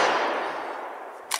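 A Browning Model 71 lever-action rifle fires a higher intensity round, a loud, close shot with a decaying, ringing tail and a sharp metallic clack at the end.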